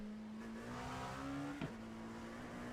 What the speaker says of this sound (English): just you can hear that engine